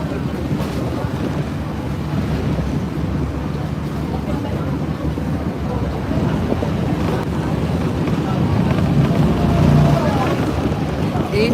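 A ferry engine to Savai'i, Samoa, rumbles low and steady as the boat turns while docking, with heavy wind buffeting the microphone and water sloshing, the drone swelling slightly toward the end.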